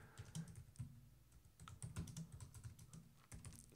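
A Mac keyboard clicks softly as a custom Game Center nickname is typed in short, uneven bursts of keystrokes, close but very quiet, with nobody talking.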